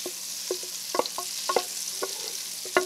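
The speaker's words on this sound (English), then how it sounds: "Now, to that fat, you are going to add some butter." Kerrygold butter sizzles in hot fat in a pan, a steady close hiss with small scattered pops and crackles throughout.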